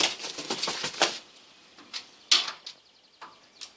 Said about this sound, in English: I'm gonna try and open the door for it.